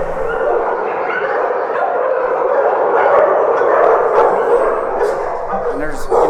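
Pit bull mix dogs at a Lubbock animal shelter keep up a loud, continuous chorus of overlapping barks and yips that echo through the kennels, with some voices underneath.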